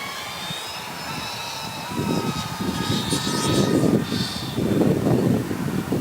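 A DJI Avata 2 FPV drone flies nearby, its steady propeller whine and buzz rising and swelling as it passes and manoeuvres, heard alone without talk.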